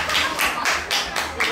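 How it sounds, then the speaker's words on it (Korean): Rhythmic clapping from an audience at the close of a Korean variety segment, steady beats about every quarter second, loud and close with a faint voice underneath. "자, 박수로 마치겠습니다."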